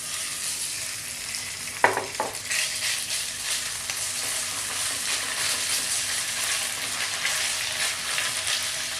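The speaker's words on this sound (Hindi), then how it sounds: "लाल मिर्च डालने के 1 मिनट बाद हम इसमें चिकन डाल देंगे जो हमने मैरिनेट करके तैयार रखे हैं।" Marinated boneless chicken frying with red chillies in a hot pan over a high flame, giving a steady loud sizzle throughout with a sharp burst of spitting as the pieces go in.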